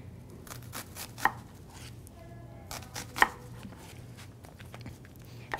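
Knife chopping a yellow onion on a board for guacamole, with a few sharp, clear cuts spaced a couple of seconds apart over a low steady hum, close and fairly quiet, with no talking.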